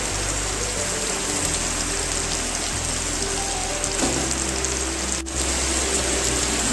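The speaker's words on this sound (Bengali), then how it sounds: "আমি মাছগুলো কড়াইর মধ্যে পুরোটাই দিয়ে দিলাম।" Steady, loud sizzle of hilsa fish frying in hot oil in a wok, a dense crackling hiss that continues without pause and with no voices.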